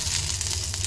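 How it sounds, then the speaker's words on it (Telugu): Fresh mint leaves frying in hot oil with cumin, mustard seeds and urad dal, a dense close crackling sizzle heard alone for a brief moment. "కొంచెం ఆయిల్ తీసేసుకొని దాంట్లో జీలకర్ర, ఆవాలు, మినప్పప్పు, ఇలా పుదీనా వేయడం వల్ల చట్నీ ఫ్లేవర్ అనేది బాగుంటుంది."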